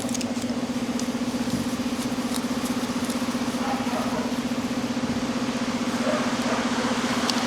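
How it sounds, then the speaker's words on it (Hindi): Steady rain patters outside a car workshop during diesel particulate filter cleaning, a constant even hiss that runs unbroken over a low droning hum. "तो बारिश भी बढ़िया हो रही है।"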